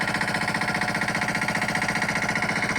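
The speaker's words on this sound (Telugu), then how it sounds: "అది మోటార్ అనమాట, మనకి వినిపించే సౌండ్ అది." A farm water pump motor irrigating a field in a village throbs steadily, a loud rapid mechanical chugging that runs unbroken throughout.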